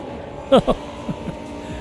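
A race car in Automobilista 2 braking on track gives a low, steady engine drone with a couple of brief, punchy pulses as it slows, while a commentator talks over it.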